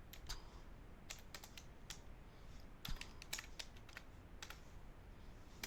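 Rapid bursts of typing on a computer keyboard, quiet and close, with irregular clusters of clicky keystrokes separated by brief pauses.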